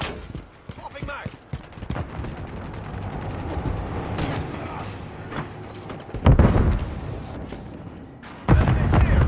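A stun grenade goes off during a 10v10 Modern Warfare 3 match on the Tokyo map, amid busy game noise and scattered shots, with two heavy booming bursts near the end.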